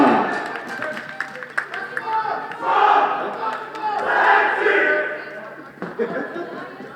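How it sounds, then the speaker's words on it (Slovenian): Fans in a packed floorball hall at a Slovenian U19 semifinal roar and chant in surging waves, loud and close, with a commentator talking over the crowd. "Dvorana je polna, na obeh straneh navijači."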